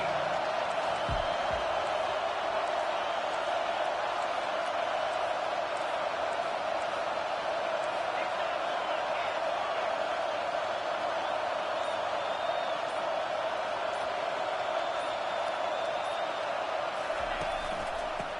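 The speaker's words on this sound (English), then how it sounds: "Decibels rising as the crowd gets behind this defense on third down." Stadium crowd at a football game roaring on a defensive third down, a dense, sustained wall of cheering noise at a steady level, heard far off around the field.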